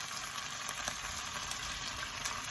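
Eggs frying in hot oil in a pan give a steady close sizzle with light crackling pops throughout and no talk.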